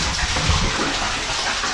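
Warm water pours steadily from a shower tap at a paid hot spring site in the Pamir mountains, a close, continuous gushing hiss with no talking.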